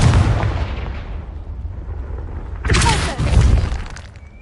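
A Confringo blasting spell explodes in the Hogwarts Legacy game on PS5: a loud, broad burst with rumbling low-end decay, followed by a second sharp crackling blast partway through.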